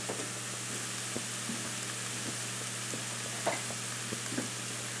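Ground beef sizzles steadily in a skillet for a one-pot tater tot casserole, with a constant frying hiss and occasional soft scrapes and taps as a silicone spoon stirs it, close and without talk.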